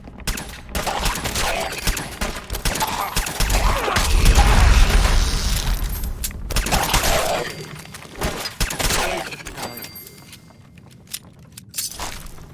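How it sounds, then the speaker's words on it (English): Gunfire in Fallout 4: loud, repeated sharp shots and clattering volleys in irregular bursts over a rumbling background, with metallic rattles between the reports. "Opening fire!"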